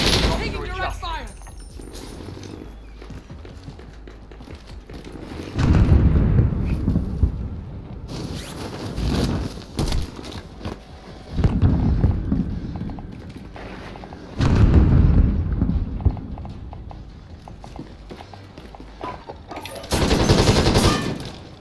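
Bursts of automatic gunfire in Call of Duty: Warzone Resurgence, several heavy, loud volleys separated by quieter stretches of rattling and scattered shots, with radio-style voice callouts in between.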